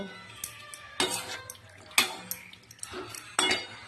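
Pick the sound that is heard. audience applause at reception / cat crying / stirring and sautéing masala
stirring and sautéing masala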